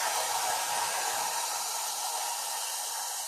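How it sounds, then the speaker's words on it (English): A hair dryer set on heat blows steadily over a hair topper, a loud continuous airy whoosh filling the whole clip with no talking. "I just take my blow dryer, make sure it's on heat"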